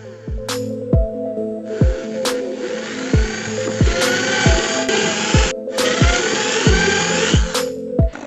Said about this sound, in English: Now the only thing left to do is to cut them out, which I'll be doing with the help of a drill machine.